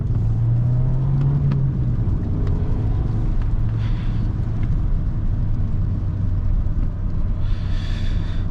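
Volkswagen Passat engine pulling hard on a winding mountain road, a steady interior drone and rumble with a rising rev in the middle, accompanied by faint clicks and road noise.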